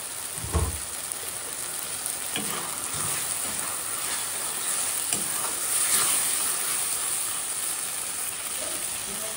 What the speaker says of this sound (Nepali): अब टमाटर लतक्क नभइन्जेलसम्म लो फ्लेममा बिस्तारै छोप्दै पकाउने।